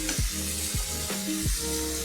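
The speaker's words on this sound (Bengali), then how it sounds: "কাঁঠালটা দিয়ে ভালো করে কষিয়ে নিয়েছি" Raw green jackfruit pieces being sautéed in a pan for a Bengali curry, loud sizzling with three scraping stirs of a spatula spaced through the short stretch.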